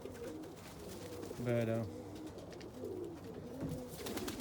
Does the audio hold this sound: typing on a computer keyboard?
no